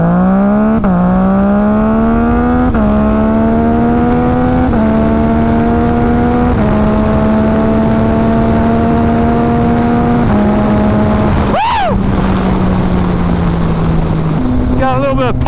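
A Yamaha MT-09 motorcycle accelerates hard from standstill toward 60 mph. The engine's loud, close whine climbs in pitch, drops sharply at each of several quick upshifts, then pulls again.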